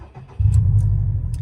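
A 2021 Subaru WRX STI engine starting: a quiet moment, then a sudden low rumbling catch as the engine fires and settles into a steady, loud idle, with a few faint clicks above.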